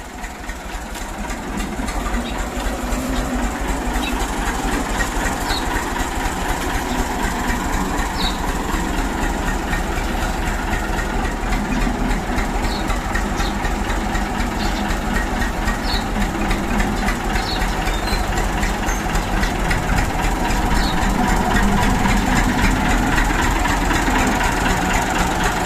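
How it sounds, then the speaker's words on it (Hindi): Tractor engine idling and running after being driven out onto a road, a steady loud low rumbling drone with fast mechanical chatter, continuous throughout with faint background sounds. "ट्रैक्टर जो है वो हमने इधर बाहर रोड पे निकाल लिया है।"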